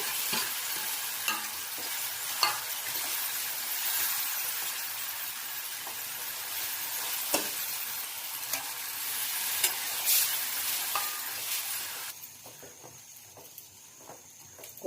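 Gram flour for Maharashtrian pithla is stirred into a hot pan with onion, turmeric, salt and yogurt, giving a steady close sizzle broken by repeated scraping and clinking of the spoon against the pan.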